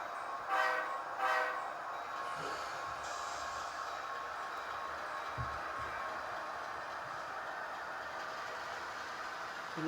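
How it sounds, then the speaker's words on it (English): A train in the video game Rhythm RR rumbles along steadily with two short horn blasts near the start, the running noise continuing evenly afterward. "So let's just get the train going."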